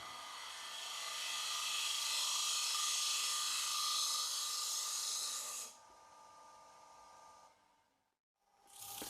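Wood lathe tool held in shear-cut position taking fine finishing cuts on a turned bowl: a steady hissing, rasping scrape that runs continuously for several seconds, then stops, followed by near silence and a brief faint rustle.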